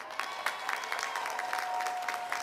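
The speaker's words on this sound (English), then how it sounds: "Give the faculty a round of applause," A large commencement audience applauds the faculty at Bowie State University, a steady wash of distant crowd clapping with individual claps rising above it, continuing throughout.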